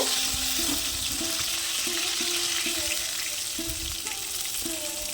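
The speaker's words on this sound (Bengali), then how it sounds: "এখানে দেখো মাছটা আমার ভাজা হয়ে গেছে এবার আমি এই মাছটা তুলে নেব" Lote fish (Bombay duck) frying in hot oil, a steady loud sizzle and crackle throughout, with occasional soft utensil knocks and faint kitchen tones behind it; no talking.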